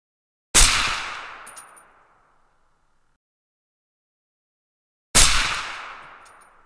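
Two loud gas-powered rifle shots ring out on a shooting range, a few seconds apart. Each sharp crack is followed by a long echoing decay, with silence between the shots.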